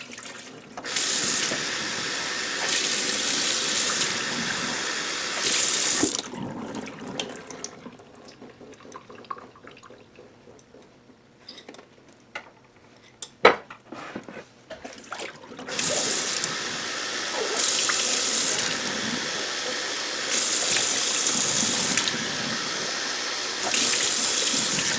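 Soaked beans and lentils are drained and rinsed under a kitchen tap, with loud steady running water for a few seconds, a quieter stretch of handling and soft clatter, then the water running strongly again.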